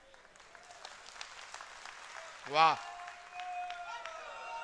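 Crowd at a political rally speech in Maharashtra applauding, scattered claps building behind a voice talking over a loudspeaker, with a brief exclamation and the applause swelling near the end.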